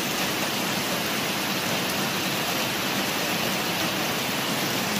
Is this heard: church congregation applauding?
no